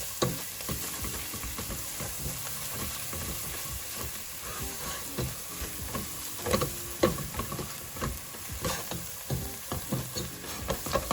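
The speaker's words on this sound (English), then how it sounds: "After adding the spices, let's mix it nicely and cook it for not more than 1 or 2 minutes." Spices including coriander powder cooking in a pan, with steady frying sizzle and busy scraping as a spoon stirs them, close and continuous under faint background music.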